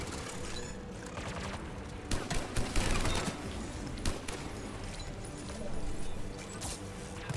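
Gunfire rattles through a battle on Rannoch in Mass Effect 3, with repeated bursts and volleys of shots over a busy, rumbling combat backdrop. The whole scene stays fairly quiet and distant.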